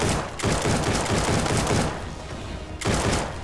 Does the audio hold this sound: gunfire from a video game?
yes